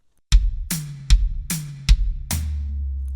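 Drum kit triplet fill combining two beats on bass drum and medium tom: six punchy strikes in quick succession, close and loud, the last tom hit left to ring out with a deep sustained tone.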